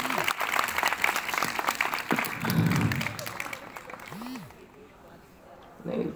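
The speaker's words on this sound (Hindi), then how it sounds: "तो ये मैम के लिए एक बार ताली बजा दे" Audience applause at a Republic Day event, a burst of clapping from a crowd that fades out partway through, with voices mixed in.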